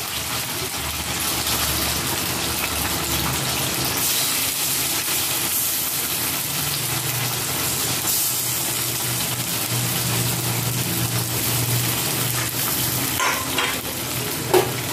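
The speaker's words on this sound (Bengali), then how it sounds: "যেটা আছে এইটা একটু ভেজে নিই লাল লাল করে" Chicken pieces fry in a pan for a chicken dish, a steady, close sizzle with bursts of spattering and stirring that runs through the whole stretch with no talk.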